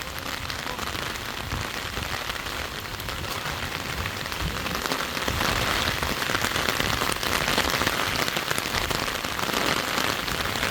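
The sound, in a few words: heavy rain falling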